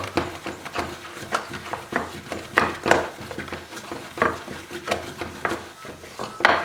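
Choux pastry dough is stirred vigorously in a pot with rhythmic, close scraping and knocking strokes against the pan, repeating steadily at roughly even intervals.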